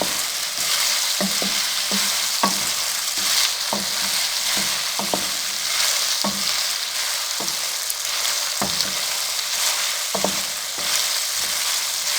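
Okra (bhindi) fries on a low flame, giving a continuous close sizzle broken by regular light clicks and scrapes of stirring.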